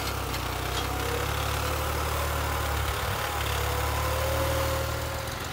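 A New Holland 3630 tractor engine runs steadily under load pulling a 15-tine tiller, a continuous low diesel drone with an even throb and no voices.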